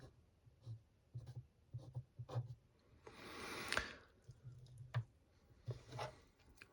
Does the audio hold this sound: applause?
no